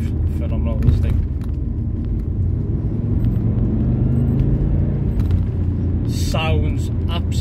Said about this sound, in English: That flat 4 Boxer sounds absolutely breathtaking.